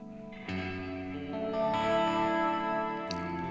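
An ILLUMINE reverb pedal with depth set at its midpoint washes sustained guitar chords in a moderately sized, shimmering reverb, the tone changing in a couple of clear steps and ringing on without any talking.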